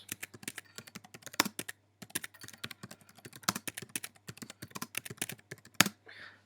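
Someone types on a computer keyboard in quick irregular bursts of crisp key clicks, heard close and fairly quiet, with brief pauses between runs of keystrokes.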